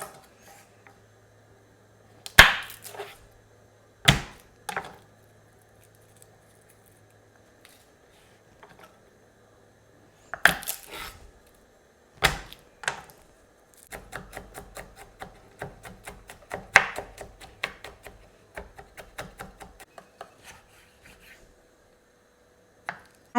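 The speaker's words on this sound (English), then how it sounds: "I have got some ginger and garlic and I'm going to chop it up finely" A knife chops ginger and garlic finely on a board: sparse sharp knocks at first, then a quicker run of close, crisp chops before it trails off quietly, with no talking.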